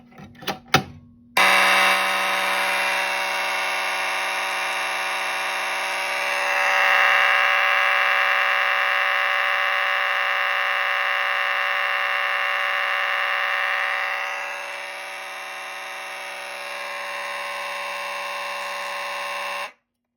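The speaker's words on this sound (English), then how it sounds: "this simplex horn sounded really, really crappy" Simplex fire alarm horn driven by a Fire-Lite MS-5UD panel blares in one continuous, loud, harsh buzzing tone for about eighteen seconds after a few brief clicks, swelling slightly midway and dropping a little near the end before cutting off.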